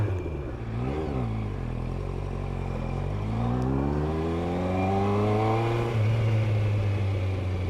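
A 1988 Yamaha FZR1000 five-valve inline-four motorcycle pulls away on a ride, a brief blip of revs followed by a rising engine note climbing steadily through the gears, loud and close with wind rushing.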